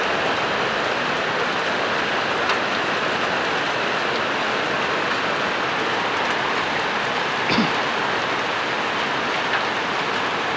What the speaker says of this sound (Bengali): আকাশের থেকে ছোটো ছোটো শিলা বৃষ্টি, মানে পাথর পড়ছে